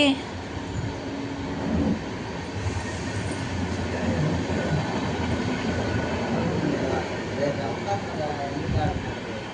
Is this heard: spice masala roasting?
no